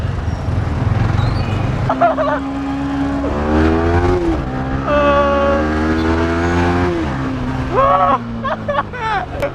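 A Yamaha R15 sport motorcycle revs and accelerates loudly up close, its engine pitch rising and falling through gear changes, with riders talking and shouting over it throughout.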